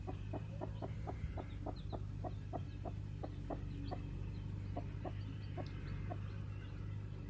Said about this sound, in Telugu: మా కోడి 3 పిల్లల్ని చేసింది. అది కుక్కు కుక్కు అంటుంది.